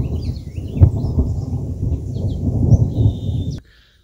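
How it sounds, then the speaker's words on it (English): Low thunder rumbles steadily through a pickup tailgate setting outdoors, with a swelling roll and a few heavier cracks, while faint bird chirps carry over the top before the rumble fades out. "I've got thunder and I think it's about to come, a toad strangler."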